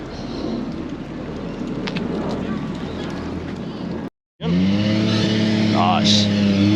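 Ford Mustang 5.0 V8 at a car show, its engine running loud and steady for several seconds, cutting out briefly, then returning with a strong rumbling idle and a rising rev near the end.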